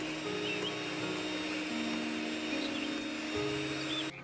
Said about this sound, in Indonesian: campur adonan telur dengan adonan mentega. Mixer kurang lebih 2 menit saja ya.